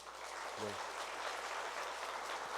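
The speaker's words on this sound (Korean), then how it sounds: "우리 축복의 박수 하겠습니다." Church congregation applauding in blessing during a Sunday service, a steady wash of clapping filling the room throughout, with a brief low tone near the start.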